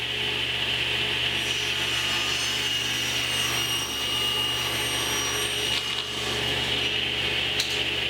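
A table saw ripping wood into 2 1/4 inch strips for a platform bed frame, a loud steady whining blade roar with a constant motor hum that continues throughout, cut tone shifting slightly near the end.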